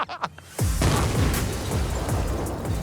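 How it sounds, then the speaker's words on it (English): Dynamite detonates beside a car in a full-scale stunt test, a sudden loud boom that rolls into a long, sustained rumble with crackling debris, preceded by a few faint knocks. "Our first full-scale experiment was a perfect match for the movie explosion."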